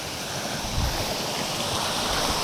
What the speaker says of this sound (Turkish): Bak burada dere akıyor.